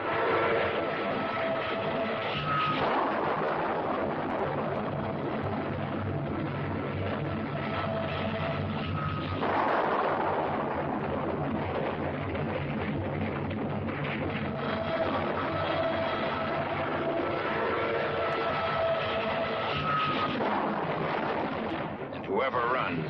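Korean War artillery fire from a 1951 newsreel, a continuous heavy rumble of booms and blasts rolling through the whole stretch, loud and dense, with a narrator's voice running over it.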